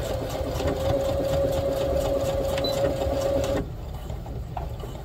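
A sewing machine stitches a garden kneeling pad with a steady, loud mechanical whir and needle chatter for about three and a half seconds, then stops abruptly, leaving quieter room noise.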